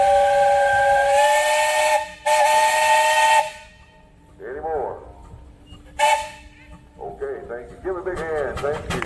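A loud steam engine whistle at a steam engine and threshers festival in Michigan blows in two long blasts with hissing, then people talk and a shorter whistle sounds again briefly.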